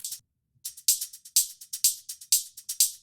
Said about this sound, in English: There's a shaker.